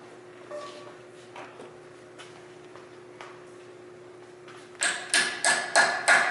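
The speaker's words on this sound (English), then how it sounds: "Yeah, a hammer." Hammer blows land in a quick run of five sharp, loud strikes near the end, after quieter scattered knocks and handling sounds over a faint steady hum.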